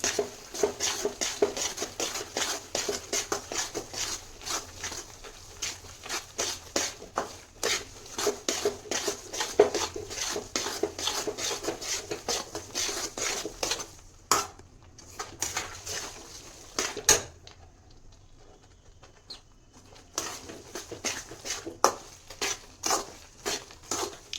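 A spoon scrapes and clinks steadily against a pan while adadiya, a sweet mixture, is stirred over low gas until it thickens. Dense, fast, irregular taps and scrapes continue throughout, with a brief pause near the end.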